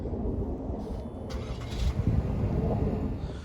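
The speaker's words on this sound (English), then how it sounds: "Lock it once and then hit the remote start." A 2020 GMC Terrain SUV's engine idles after a remote start, a steady low rumble close by with a brief mechanical click and airy whoosh early on.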